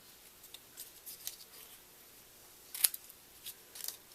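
Scissors make several quick, faint crisp snips while cutting cardstock at an angle, with one sharper snip standing out near the end over quiet room noise.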